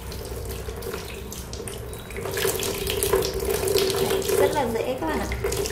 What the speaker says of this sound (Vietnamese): Mình sẽ lộn ngược lòng để cho phần lòng nó chảy ở dưới vòi nước này